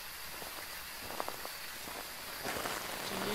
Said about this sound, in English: I love the new rain sounds on the tents and tarps and stuff.